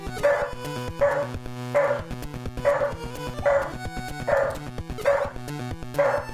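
A dog in a Super Mario Bros. 3 hack barks and yips in a rigid, evenly spaced loop of about nine chirpy barks over chiptune music, with no talk.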